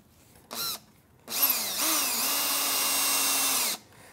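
A power drill drives screws into a pedal on an Exo Chair, with a short whirring burst and then a longer sustained run whose pitch dips as the screw tightens. Close and loud.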